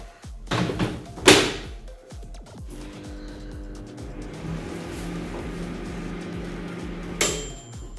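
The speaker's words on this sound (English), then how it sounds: "now I will run this microwave for 5 minutes on" Microwave oven running at 800 watts with a clay pot inside, a steady low hum following a couple of clunks at the start, with another thunk near the end.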